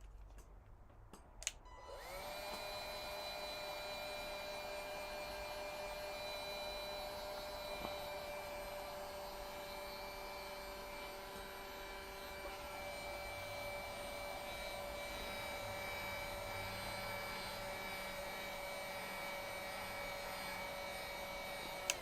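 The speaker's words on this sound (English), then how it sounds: "I can feel the heat gun dying" A heat gun runs continuously in a workshop while a Glowforge sign is being painted, a steady whirring fan drone with a tonal hum that starts abruptly after a couple of clicks and then holds even and close, with no talking.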